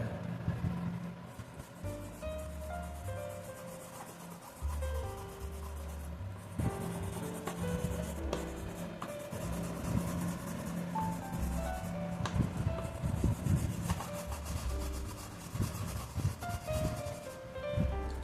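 Oil pastel rubbed and smudged across paper while drawing a dolphin, a faint, close, soft scratchy rubbing in uneven strokes that continues throughout at low volume.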